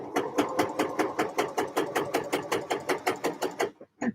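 A sewing machine runs top stitching on knit fabric, a quick even chugging of about twenty stitch strokes, close and steady, then a short pause and one last stroke.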